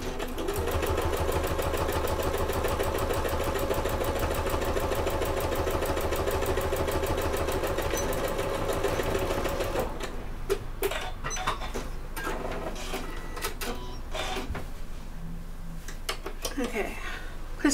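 A sewing machine runs steadily while stitching the Adventure Bag at stitch length 3, reverse-stitched at start and end. It makes a rapid, even mechanical whir for about ten seconds, then stops, leaving quieter handling sounds.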